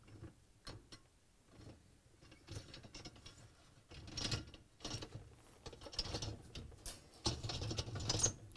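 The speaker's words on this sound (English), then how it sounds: "I'm going to place all 4 rollers onto the rails." Dishwasher rack rollers are fitted onto their rails, giving faint, close plastic clicks and rattling knocks at irregular intervals, with no talk.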